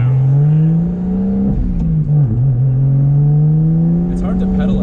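Single-turbo BMW 335i engine held at full throttle, a loud, steady droning exhaust note close by that dips briefly mid-pull, then climbs again with a crackle near the end.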